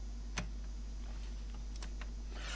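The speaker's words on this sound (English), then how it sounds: "The speakers are making a clicking noise now." A dead portable CD player and radio with power reaching it gives faint, sparse clicks from its speakers, a sharp tick near the start and a few softer ones later, over a steady low hum.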